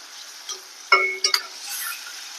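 Vatha kuzhambu stirred once in a pan after the lid is lifted, a few sharp metallic clinks and scrapes of a spoon against the vessel, close and brief, over a low kitchen hiss.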